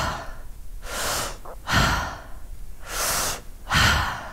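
Deep yoga breaths repeat in a slow cycle, long airy inhales alternating with fuller exhales, close and clear with no talking, about two full rounds.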